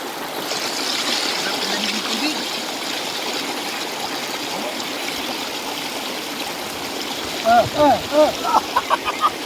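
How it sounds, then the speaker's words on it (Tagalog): Strong river current rushing steadily and loudly throughout, a broad continuous wash of flowing water, with brief voices and splashes near the end. "natatangay ako ng agos, ang lakas"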